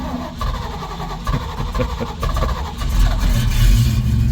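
A cold car engine with a faulty accelerator pump cranks and sputters while trying to start, uneven low rumbling surges that swell louder toward the end, close and steady with no talk.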